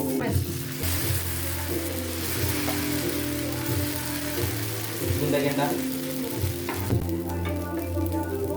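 Dosa batter sizzles steadily on a hot pan, a continuous crackling fry with occasional stirring or scraping, fairly close, with a voice talking faintly over it at times.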